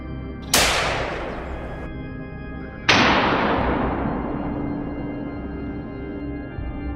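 Two sharp gunshots ring out during a wild boar hunt, each a loud crack followed by a long decaying echo, spaced a couple of seconds apart.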